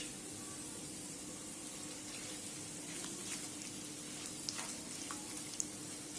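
Whole spices (bay leaves, cinnamon pieces, cardamom and peppercorns) fry in oil with browned onion for beef korma, giving a faint, steady sizzle with a few tiny pops and no voices.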